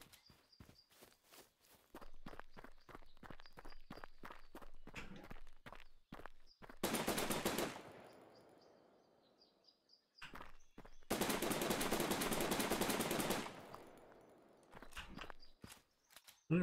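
Bursts of video-game gunfire from Gunsmith Simulator, two long loud volleys of rapid shots separated by clicking, handling and reloading sounds, with sharp single shots at the start and end.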